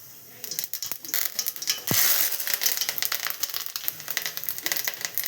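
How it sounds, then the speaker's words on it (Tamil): Mustard seeds and curry leaves crackle in hot oil for tomato rasam, a dense run of sharp irregular pops and snaps with one louder burst early on, close and steady throughout. "எண்ணெய் காஞ்சிடுச்சு, கடுகு போட்டாச்சு,"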